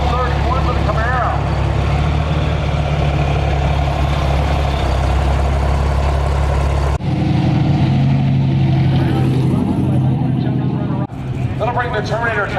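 Street cars, including a Camaro, drag racing at Sick Week, with loud, rumbling engines and idling drivetrains heard close up. The sound changes abruptly between passes as a commentator talks over much of it.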